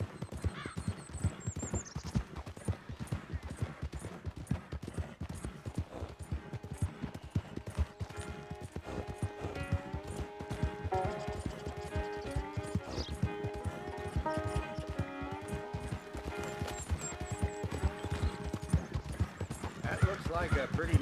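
Horse hooves in Red Dead Redemption 2 clip-clopping at a steady fast rhythm throughout, moderately loud, under a continuous music score and talking voices.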